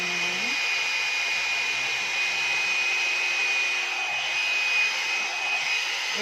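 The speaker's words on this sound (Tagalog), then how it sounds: "It's a life-changing hair dryer and styler po siya." A 2-in-1 one-step hair dryer and styler runs steadily at close range, giving a loud, constant airy whoosh with a high motor whine and light rubbing as it moves through hair.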